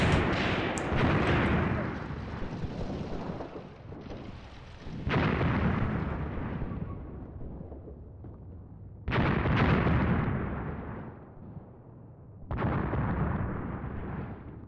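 Heavy gunfire and booming explosions from the World War II tactics game Graviteam Tactics: Mius Front, arriving in loud broadband bursts with rolling rumble between them, several big blasts striking at intervals.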